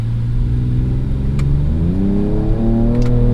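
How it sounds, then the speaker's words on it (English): A 2024 Ford Ranger Raptor pickup engine revs and its pitch drops and climbs as it downshifts, loud and close, with no talking. "I'm also not really expecting lightning quick downshifts from a truck like this."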